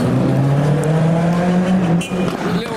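A Ford Fiesta with side pipes drives past at an underground car show, its engine a loud, rising drone that shifts pitch as it passes close by, then drops away.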